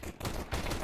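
A crisp gunshot for a headshot in a first-person shooter, a quick burst of close sharp reports within under a second, loud and clear with no talk.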